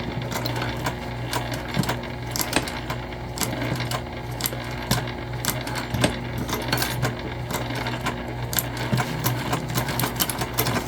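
A sewing machine stitches fold-over elastic onto a fabric backpack organizer, its motor running in a continuous rapid whir with sharp clicking needle strokes, close and loud throughout with no talk.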